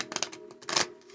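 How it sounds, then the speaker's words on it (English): Brief soft riffle of a fairy tarot card deck being shuffled by hand, a quick flurry of light papery flicks close by, quiet and with no talk. "I like to shuffle it a couple of times"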